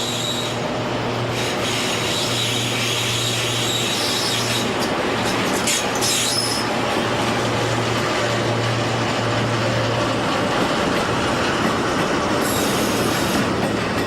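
A Portuguese Railways train rumbles steadily along the rails, with a constant loud roar, a low hum and occasional higher squeals from the wheels.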